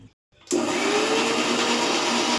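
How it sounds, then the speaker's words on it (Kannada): A kitchen mixer grinder blends a fenugreek leaf gravy paste, starting abruptly after a short silence and then whirring in a loud, steady, high-pitched drone, close up with no voices. "ಇದನ್ನು ಮಿಕ್ಸಿ ಮಾಡ್ಕೋಬೇಕು."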